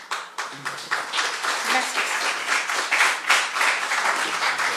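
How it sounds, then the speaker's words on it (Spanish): An audience at a Spanish-language discussion forum breaks into applause, the clapping building quickly after a short spoken thanks and then holding steady, moderately loud and close. "Un aplauso, por favor."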